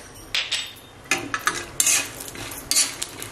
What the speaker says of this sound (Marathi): हे बघा लसूण टाकल्याने बघा आवाज कसा येतोय।